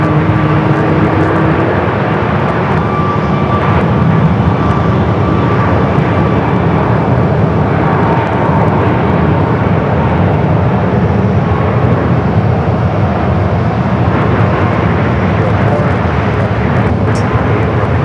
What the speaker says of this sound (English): the planes are coming in from the east and departing out there to the west